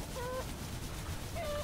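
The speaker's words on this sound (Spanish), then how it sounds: "qué coñazo de gallinas" Chickens in the video game Mr. Prepper give a few short, faint clucks over a steady background hum.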